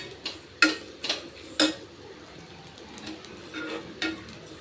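Pirandai (adamant creeper) dry roasts in a pan with cumin and rock salt, making quiet, intermittent scraping taps from stirring with soft gaps between them.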